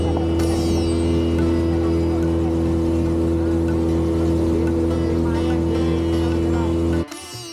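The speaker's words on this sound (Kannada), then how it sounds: "ನೋಡಿ ನಮ್ಮ ಬೋಟು ಓಂಕಾರೇಶ್ವರ ಡ್ಯಾಮ್ ಹತ್ರವರೆಗೂ ಬರ್ತಾ ಇದೆ." A motorboat carries passengers on a river toward the Omkareshwar dam, its engine droning loudly and steadily close by throughout, then cutting off abruptly near the end.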